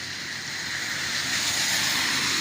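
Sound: heavy rain falling during a flood

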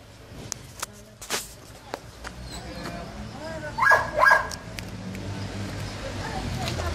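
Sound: Cane Corso dog barking

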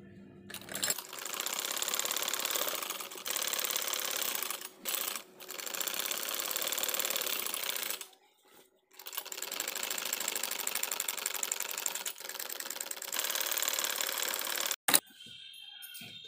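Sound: sewing machine stitching a kurta seam

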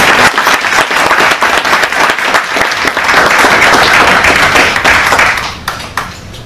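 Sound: audience applause

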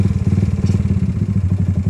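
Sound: motorcycle engine idling at stock idle speed

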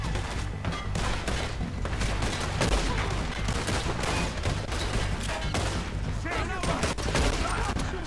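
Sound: gunfire shooting from the hip in video game Red Dead Redemption 2

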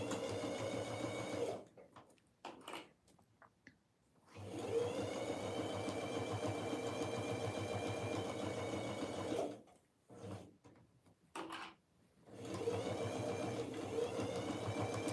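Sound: sewing machine stitching binding

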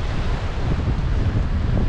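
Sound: strong wind near the beach

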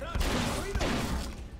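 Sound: gunfire in the video game Splinter Cell: Conviction

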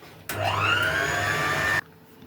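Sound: electric mixer beating drink mixture

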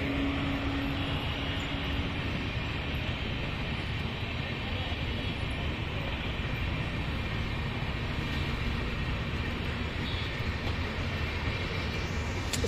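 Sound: East Coast Express train with WAP-4 locomotive passing

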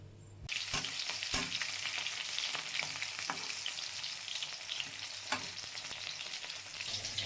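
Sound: fish frying in oil

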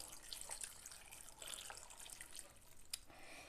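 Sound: cup of water poured into multicooker

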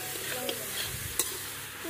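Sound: green beans frying in a pan

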